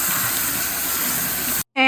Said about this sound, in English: Quinoa needs to be rinsed in order to remove a slightly bitter taste.